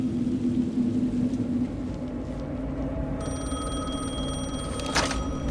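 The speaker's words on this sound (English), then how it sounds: "Phone again." A telephone rings in the video game Alan Wake II, with repeated ringing tones sounding over a low ambient rumble.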